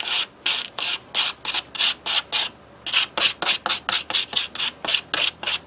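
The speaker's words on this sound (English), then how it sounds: "keep that mixed up, smash it," Rhythmic scraping strokes, about two per second, briefly pausing then resuming faster, as a tool smears and grinds enamel paste on a paper plate, close and fairly loud.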